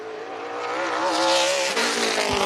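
A Super Late Model race car under way on an oval track during qualifying, its engine revving loudly and rising steadily in pitch as it passes close by, with no talking.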